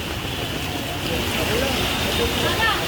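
A steady, dense hiss of heavy rain pours without a break, filling the background evenly from start to finish.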